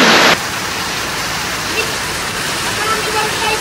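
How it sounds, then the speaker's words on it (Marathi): Heavy rain falls outside onto a leaking tin sheet roof, a steady dense wash of hiss and patter that stays loud and even throughout, with a brief louder burst at the very start. "पाऊस चाललाय बाहेर आणि हा सगळा पत्रा गळतोय इथं"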